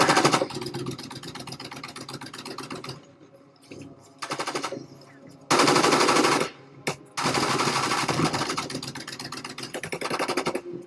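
Long bursts of rapid automatic airsoft fire rattle loudly during a milsim game, broken by short gaps and a quieter stretch, with a few single shots.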